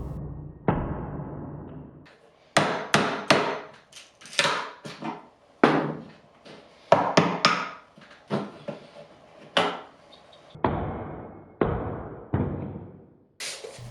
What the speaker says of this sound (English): take a screwdriver and a hammer or something to hit it off and basically pry it off